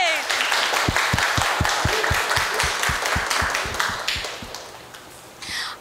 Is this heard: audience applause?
yes